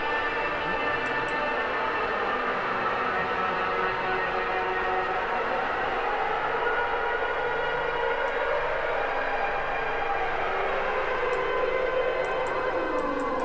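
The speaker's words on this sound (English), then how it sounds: "there's kind of a high-pitched tone in the background." A sustained high-pitched tone wavers and sweeps in pitch as Output Portal's pre-delay is moved, inside a dense, echoing wash, with occasional faint ticks on top.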